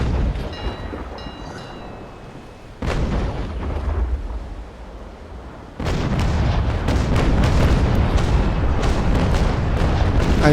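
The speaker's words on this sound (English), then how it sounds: "I decided to fire just my 2 batteries, and then I enabled the other 2 and started to turn." Broadside cannon batteries aboard a sailing warship in the Naval Action game boom in heavy rolling volleys, first a burst, then a sustained thundering barrage that fills the final seconds.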